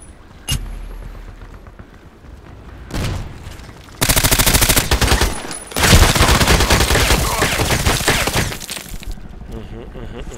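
Automatic gunfire in the online shooter Contract Wars during a Deathmatch on the Bay map: loud, dense bursts of rapid shots that start suddenly and keep pounding with only brief gaps, after a sharp single crack early on.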